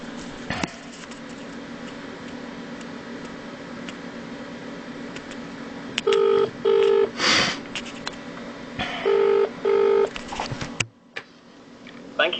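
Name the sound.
telephone being dialed to call police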